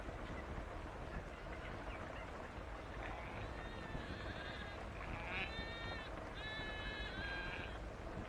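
Sheep and lambs bleat a few times in the distance over a constant loud rumble, the calls wavering and overlapping near the end.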